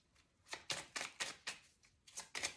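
Oracle cards are shuffled by hand, about eight quick riffling bursts in an uneven rhythm, close and fairly soft with no talking.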